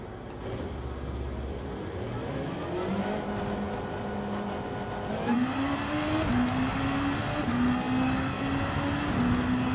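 Gr.2 race car in Gran Turismo 7 sprint racing, a steady engine drone rising through gear changes with pitch climbing in stepped shifts, continuous and fairly loud throughout.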